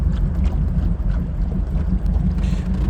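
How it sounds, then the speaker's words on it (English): A 1991 Sea Ray boat engine idles steadily at around 750 RPM after a carburetor rebuild and timing adjustment, giving a continuous low rumble with a wind-like wash over it and no pauses. "once it gets going and the choke opens up, the engine idles down and runs really good"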